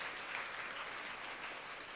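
Sustained, dense applause from a graduation ceremony audience at Satellite Academy High School, filling the whole stretch at an even, steady level with no talk over it.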